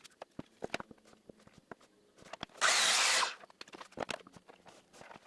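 A power saw bites into a thick slab of live edge wood in one loud, sustained burst of about a second, with scattered knocks and handling clatter before and after.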